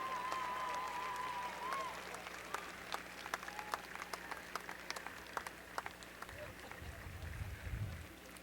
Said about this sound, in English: extend a round of applause to them as well for their support